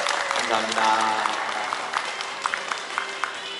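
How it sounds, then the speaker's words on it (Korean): An audience at a local family event gives a brief round of clapping for a provincial council member while a voice speaks over the start, the applause thinning into scattered claps. "박수 한번 주십시오."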